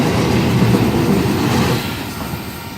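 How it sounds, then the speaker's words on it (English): The final 2 MB7, a very short passenger train out of Melbourne, rumbles steadily along the rails with a broad low roar and faint clatter, loud and close at first and easing slightly toward the end, with no talk. "This is the very train that left Melbourne for the last time yesterday, and it's a very short one too."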